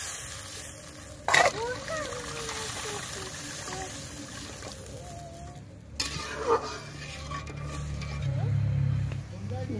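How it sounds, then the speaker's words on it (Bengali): Water poured into spice paste frying in oil in a pan for a fish curry with eggplant, tomato and poppy seed paste: a sizzle and splashy trickle under steady frying noise, with someone talking. "মশলা দিয়ে তেল ছেড়ে গেছে, এখন দিয়ে দেব পরিমাণ মতো জল।"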